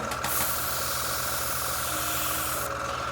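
An airbrush, just unclogged, sprays with a steady, even hiss that holds at the same level from start to finish, close and fairly quiet with a low mechanical hum underneath.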